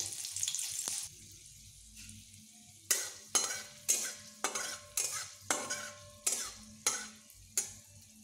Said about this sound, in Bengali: এবার আমি একটু পাঁচফোড়ন ও দুটো পাকা লঙ্কা ফোড়ন দিয়ে দিলাম।